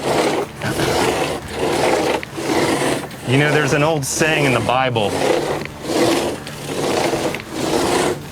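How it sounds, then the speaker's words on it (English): Rhythmic back-and-forth rasping of a hand saw cutting a wooden log, steady strokes about every second, with someone talking over the middle. "just sawing this log is like 5G because it's always going"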